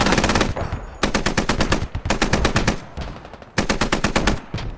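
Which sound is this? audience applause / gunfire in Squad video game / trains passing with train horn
gunfire in Squad video game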